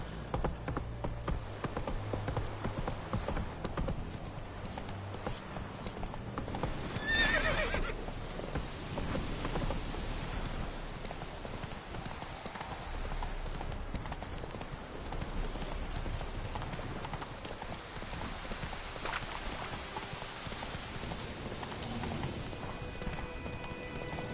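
Hooves clip-clop steadily as a horse gallops in The Witcher 3 video game, with continuous rhythmic thudding under game ambience and a brief whinny partway through.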